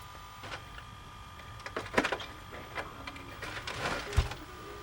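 An LG GC480W VCR lacing its tape and starting playback: quiet whirring from the mechanism with scattered clicks and clunks, closing on a firm thunk near the end.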